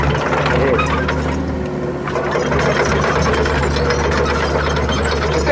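The diesel engine of a 12-year-old 02-class excavator, grading with its blade, drones steadily nearby, a low rumbling idle with mechanical clatter layered on top.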